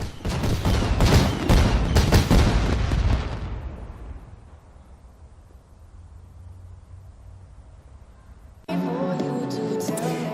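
Fireworks bursting for a New Year celebration: a dense volley of loud crackling explosions that fades into a low rumbling echo before a sudden change to music at the end.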